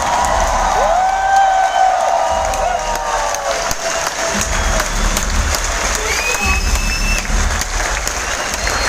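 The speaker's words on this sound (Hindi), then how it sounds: "तो तालियों के साथ स्वागत करते हैं आज के स्पीकर का" A large audience in an indoor stadium in Surat applauds and cheers to welcome a speaker at a growth training event. Sustained loud clapping and crowd roar carry shrill whistles and whoops rising above it.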